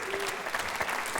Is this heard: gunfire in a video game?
no